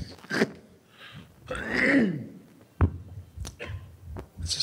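A person coughs and clears their throat a few times up close, with a sharp harsh burst in the middle and quieter breathy sounds around it.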